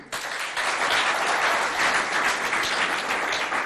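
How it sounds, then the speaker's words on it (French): An audience applauds a jury member at a school competition, with full, even clapping that starts abruptly and holds steady to the end. "J'aimerais qu'on applaudisse Madame Matibé Geneviève, qui est au milieu."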